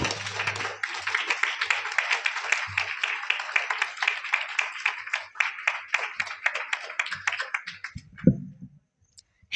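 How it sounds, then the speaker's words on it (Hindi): Audience applause at a school motivational seminar at BT School Badarwas, welcoming a young student to the stage: dense, steady clapping from a crowd for about eight seconds, then fading out with a single thump before silence. "कृपया जोरदार तालियों से उनका स्वागत करें।"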